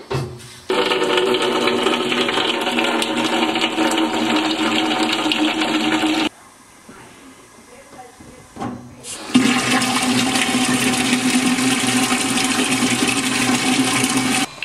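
Water rushes loudly into a container for several seconds, filling it with 5 gallons for home brewing, stops briefly with a quieter gurgle, then gushes again at full strength.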